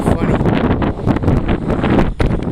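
Strong gusts buffet an outdoor camera microphone on a windy day at a shooting range, producing loud, uneven rumbling bursts that fill the short stretch almost continuously.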